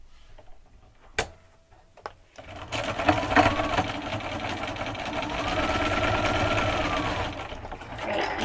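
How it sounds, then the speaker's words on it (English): A sewing machine stitches two quilt squares together, running in a steady, close, rhythmic whir for several seconds after a few sharp clicks as it starts. "I'm just going to take 2 of these squares at the top and we're going to sew them together."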